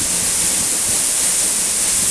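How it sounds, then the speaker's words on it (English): The Eas Mor waterfall rushes as a loud, constant, close roar of falling water, broadband and unbroken, with no voices or other sounds over it. "The sound of the waterfall all night."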